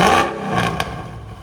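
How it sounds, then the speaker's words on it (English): A 2004 Mercedes E55 AMG V8 fitted with headers and an X-pipe, a short loud rev close by, a throaty roar that swells and quickly drops back with a brief rasp. "Rev it up!"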